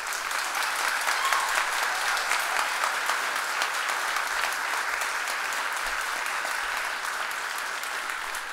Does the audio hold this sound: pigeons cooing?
no